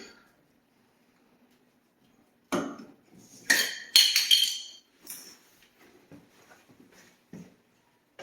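Cover being taken off a Grohe shower pressure balance valve, heard as a close cluster of sharp metallic clinks and rattles after a quiet start, followed by a few softer scattered taps.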